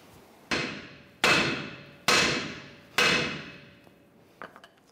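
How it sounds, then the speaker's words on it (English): A hammer strikes the steering knuckle of a 2011-2018 Ram 1500 four times in steady succession, each close, loud metallic blow ringing out and decaying before the next, with a few faint clinks afterward. "we're going to strike the knuckle here to release that"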